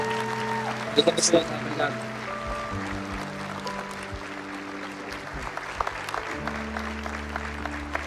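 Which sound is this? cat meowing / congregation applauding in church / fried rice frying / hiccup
congregation applauding in church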